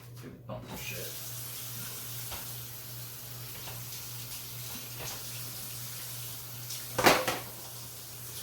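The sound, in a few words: grease dumped down the sink drain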